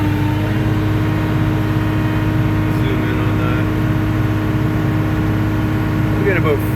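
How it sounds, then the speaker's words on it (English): An excavator's engine drones loud and steady at high idle, a continuous dense mechanical hum with no pauses. "So we'll just start this guy up. Take it to high idle here."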